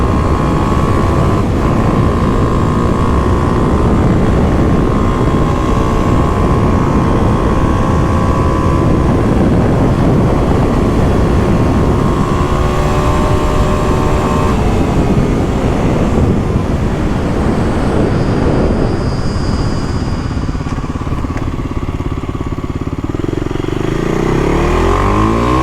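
Steady roaring wind buffets a rider on a 2023 Kawasaki KLX300SM motorcycle, a loud broadband rush over the continuous droning engine, with no talking.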